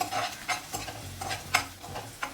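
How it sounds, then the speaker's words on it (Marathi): Crushed garlic sautéing in a pan for a garlicky fenugreek leaf dish, a soft background sizzle broken by several sharp scraping stirs at a steady, unhurried rhythm, close and moderately loud with no talking. "लसूण थोडा छान परतून घ्यायचा"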